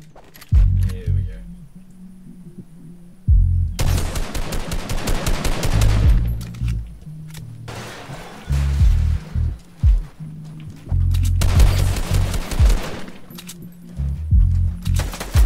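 A lever action shotgun fires in a video game, with loud bursts of blasts and rapid cracks in several separate bursts, between stretches of quieter in-game sound and talk.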